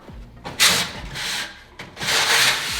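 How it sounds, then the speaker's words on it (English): Chimney sweeping brush scraping inside a flue pipe, a series of harsh rasping strokes in a back-and-forth rhythm, with dull knocks at the start of each stroke, close and fairly loud. "hold the pipe while I sweep"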